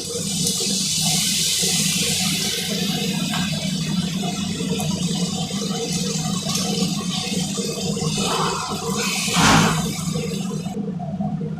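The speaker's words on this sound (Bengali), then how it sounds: "একটু জল দিয়ে দিচ্ছি।" Water pours steadily into a pan while steamed hilsa fish is being prepared, a continuous close splashing rush lasting several seconds with no one speaking.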